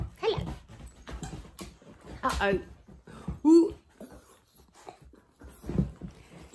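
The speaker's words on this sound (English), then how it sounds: "It's a craze of dogs." Several dogs give short barks and high whimpers, loud and close, scattered among people talking and exclaiming.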